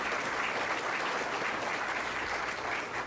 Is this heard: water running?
no